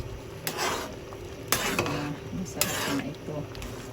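A spoon scrapes and swirls through champorado chocolate rice porridge in a pot, with soft repeated stirring strokes and occasional clinks close by, under a brief spoken comment.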